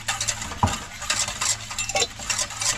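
A spoon clinks and scrapes softly against a pot while cornstarch is stirred into water, giving irregular light metallic taps and swirling patter at low volume.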